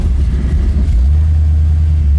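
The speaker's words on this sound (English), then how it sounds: "This thing's got that throaty Z28 Camaro rumble, doesn't it?" Deep, throaty rumble of a 1970 Camaro Z28 engine idling close by, a loud steady low growl that settles into an even burble, with no voices.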